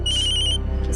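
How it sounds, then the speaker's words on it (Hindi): Mobile phone ringtone ringing, a bright electronic trill of rapid repeated tones that stops partway, then a short chime, loud and close with no talk. "किसका फोन आ रहा है?"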